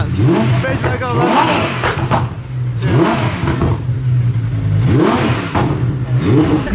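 Drift cars rev and drift at Silverstone, engines rising and falling in repeated surging sweeps as they pass, fairly loud, with voices talking over the noise.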